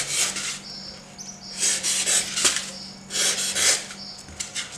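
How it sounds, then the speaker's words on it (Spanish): A small scalpel carves and smooths a styrofoam flowerpot with quick, scratchy rubbing strokes that come in short irregular bursts. The sound is close and dry, with a faint steady hum behind it and no talk. "Ahora con el bisturí pequeño vamos a ir puliendo esta partecita aquí."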